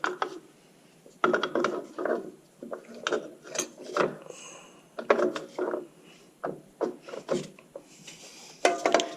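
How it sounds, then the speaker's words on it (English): A threaded drum brake adjuster on a Nissan/Datsun 720 turned by hand, making close, quiet, irregular metallic clicks and ratcheting scrapes in short bursts over nearly ten seconds. "this here on this side is your adjuster, and it's threaded and it turns nicely"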